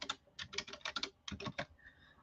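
Fingers type on a computer keyboard in quick, irregular bursts of soft, close clicks, pausing briefly mid-way before a few final taps.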